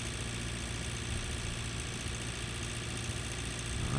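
A heavy tractor engine labours up a hill in the farming game Pure Farming 2018, a steady low droning rumble with constant vibration throughout.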